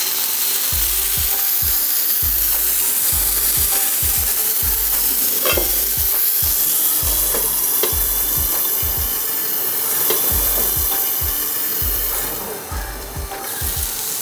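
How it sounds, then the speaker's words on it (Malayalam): Marinated chicken grills in olive oil in a pan, a steady sizzle under repeated rhythmic scraping and clicking from a utensil moving the pieces around. "കുറച്ച് ഒലീവ് ഓയിൽ ഒഴിച്ച് നേരത്തെ മാരിനേറ്റ് ചെയ്ത ചിക്കൻ നമുക്ക് ഗ്രില്ല് ചെയ്തെടുക്കാം"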